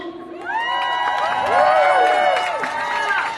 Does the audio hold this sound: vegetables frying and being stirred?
no